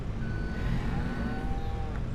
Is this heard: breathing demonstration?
no